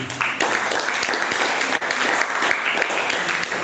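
An audience claps steadily at a live Shapers Network Africa event, a dense, continuous wash of applause filling the room without pause.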